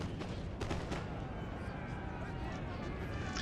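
Musket and artillery fire rolls across a Napoleon Total War battlefield in a dense, steady rumble of overlapping reports, with no single shot standing clear.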